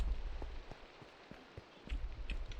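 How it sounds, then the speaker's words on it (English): Rain patters on surfaces in a Minecraft world, soft scattered droplet ticks over a gentle hiss, quiet and intermittent. "Seriously, raining again."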